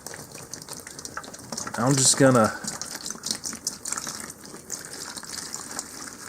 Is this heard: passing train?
no